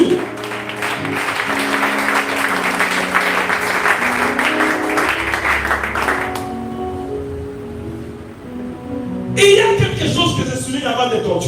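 A church congregation applauding during a French-language sermon, sustained loud clapping filling the room for several seconds, then fading to music before a voice resumes.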